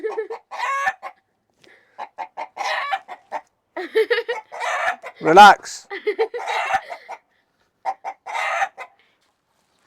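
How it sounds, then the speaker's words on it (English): A rooster crows loudly near the middle in a backyard chicken coop, with hens clucking around it and a person speaking briefly. "you can hear the rooster going off because one of the hens was outside"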